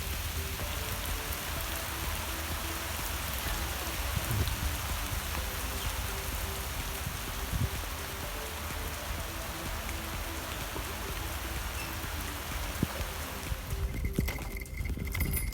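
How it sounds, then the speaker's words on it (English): Heavy rain pours down steadily in France, a dense continuous hiss with drops hitting surfaces throughout, loud and unbroken with no voices. "It's raining really heavily at the moment."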